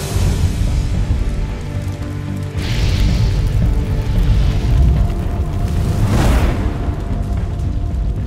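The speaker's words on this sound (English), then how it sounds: "The roar of the wind and flames was overwhelming." A wildfire roars in the Northern Rockies, its wind and flames forming a continuous loud, rumbling wash that swells twice, rising steadily without a break.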